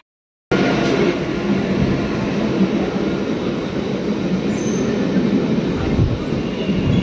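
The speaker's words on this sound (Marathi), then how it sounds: "चला मित्रांनो, आपली ट्रेन आलेली आहे आता" A Mumbai local train pulls into a station, loud and close, with continuous wheel rumble, rattling carriages and high squealing wheels over several seconds.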